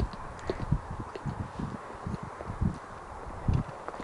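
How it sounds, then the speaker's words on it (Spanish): A horse walking along a field path among rapeseed crops, its hooves clopping in an irregular, moderately close rhythm over a soft rustling background. "Cómo disfruta el caballo."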